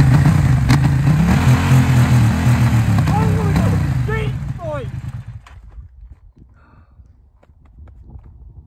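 A Yamaha MT-07 motorcycle with a newly fitted aftermarket exhaust revs loudly up close, a throbbing engine note that rises and then fades away over several seconds, leaving a quiet tail.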